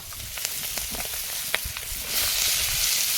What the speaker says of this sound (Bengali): এটা হচ্ছে লাল শাক আছে আর কুলে খাড়া শাক আছে দুই রকমের শাক একসাথে ভাজা হবে